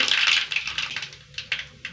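Mustard seeds crackle in hot oil in a pan: a dense burst of sharp pops, then scattered louder snaps, close and alone without talk.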